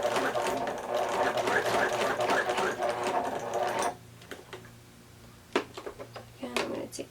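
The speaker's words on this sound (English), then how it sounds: "if you're using a machine, you want to be careful going across this part because it is a lot thicker with all those layers." A sewing machine stitches through thick layered fabric on a face mask, a close rhythmic whirr for about four seconds, then stops, followed by quieter handling clicks and rustles.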